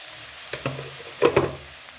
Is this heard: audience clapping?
no